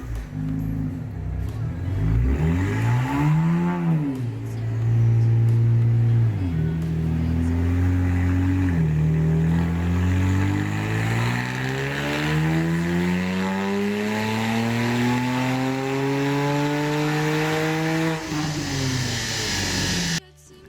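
A stock-turbo BMW 335i engine pulls hard on a dyno, its loud exhaust note climbing steadily in pitch through the gears with brief dips at each shift, sustained and close throughout the run.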